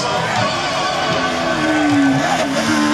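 A slalom race car at the 2018 Saint-Lô event passes loud and close, its engine note rising then sliding downward as it goes by, over a rough background of crowd and road noise.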